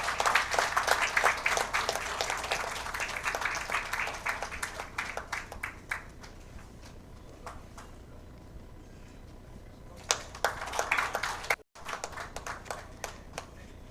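Applause from a conference audience at a felicitation ceremony, a burst of many hands clapping that fades, then picks up again briefly before dying away, no speech over it.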